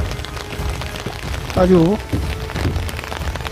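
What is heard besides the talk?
rain falling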